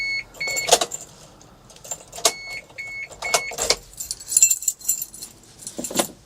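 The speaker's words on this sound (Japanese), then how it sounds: "鍵ももう至ってもノーマル、古い金属キー。" An old plain metal key for a Mitsubishi Delica truck jangles up close in several quick bright rattling bursts, with short pauses between shakes and no talk.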